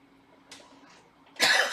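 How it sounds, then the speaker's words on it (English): A single person coughs once, sharp and close, after a short breathy throat sound in an otherwise quiet room. "Please, you're coughing."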